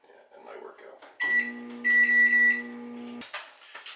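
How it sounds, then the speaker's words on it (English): A microwave oven gives a few short electronic beeps, loud and close in a quiet kitchen, with faint talk before them. "I throw this into the microwave for 2 minutes"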